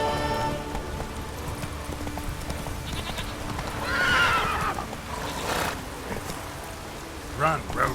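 A video game horse named Roach neighs and whinnies over a galloping clip-clop of hooves, with a brief spoken voice and a couple of sharp whinny bursts near the end.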